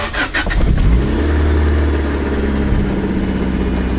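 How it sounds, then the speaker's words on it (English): A turbocharged Honda Del Sol, just back from a head gasket repair, cranks and fires up, then settles into a loud steady idle with a low engine drone close by. "this was my first ever head gasket job, so I was a little nervous for the next part, starting up the car"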